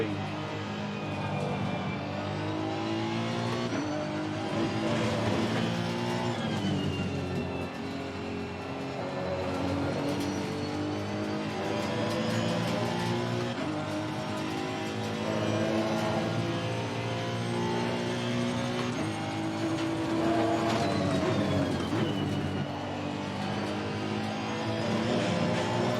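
A Honda NSX GT3 race car engine in a racing video game drones and revs continuously, rising and falling through gear changes lap after lap, loud and steady from start to finish.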